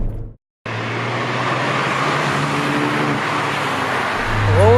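A Ford hot hatch, Fiesta ST or Focus ST, revs up through its short gear ratios with a loud, steady engine drone and rising pitch sweeps as it shifts, after a brief silent gap at the start.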